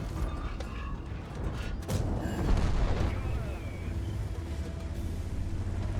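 A tank cannon fires in a tank combat video game, a single heavy boom with a rumbling tail amid mechanical creaks and engine noise.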